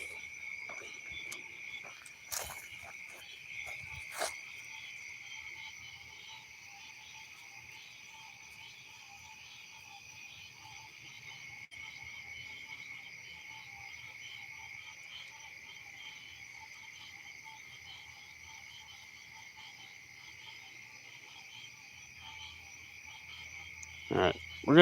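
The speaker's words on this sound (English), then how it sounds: "I hear the frogs are busy tonight." Frogs croak in a canal at night, a dense, steady high-pitched chorus that runs throughout, with a few brief louder knocks and rustles nearby.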